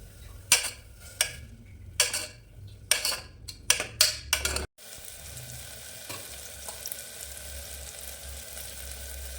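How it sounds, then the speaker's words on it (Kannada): Chopped tomatoes dropped into hot oil for sambar, sizzling softly after a series of sharp clatters and utensil taps, then a steady low fry; no voices. "ಎಣ್ಣೆ ಹಾಕಿ, ಎಣ್ಣೆ ಕಾದ ನಂತರ ಟೊಮೆಟೊ ಹಾಕಿದ್ದೀನಿ"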